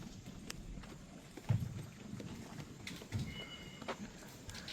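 Hooves of a Kathiyawadi mare or foal clip-clopping at a stable, a few soft irregular knocks at moderate distance over quiet outdoor background, with no talk.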